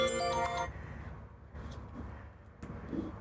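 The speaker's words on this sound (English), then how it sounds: "Let me go turn my phone off, Jody." A phone ringtone plays a short melodic burst inside a 2025 Winnebago EKKO 23B camper and then cuts off, leaving quiet room noise with faint shuffling and small knocks.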